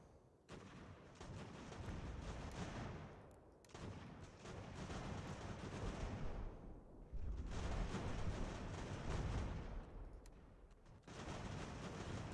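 Ragged, continuous volleys of musket fire roll through a battle in Ultimate General: American Revolution, dense crackling gunfire sustained throughout with brief dips between waves, no voices.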